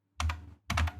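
Two quick bursts of keystrokes on a computer keyboard, close and fairly quiet, separated by a short silent gap.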